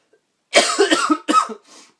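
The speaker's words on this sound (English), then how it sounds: "My nose is running. I'm coughing." A close, loud fit of coughing: a couple of hacking bursts followed by a softer trailing cough.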